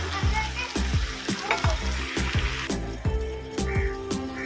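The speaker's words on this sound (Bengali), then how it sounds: "মাংসটাকে ভালো করে কষাতে হবে।" Chicken pieces fry in a pan with salt, chili, cumin, coriander and turmeric powders for a Bengali curry, a loud steady sizzle broken by rhythmic scraping stirs close up.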